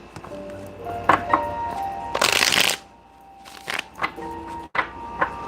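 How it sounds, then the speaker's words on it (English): A deck of playing cards is shuffled in two or three quick riffle bursts, the loudest a dense rippling flutter lasting about half a second, with soft card taps and handling noises around them over a faint background tone. "I'm going to start shuffling the cards in the meantime"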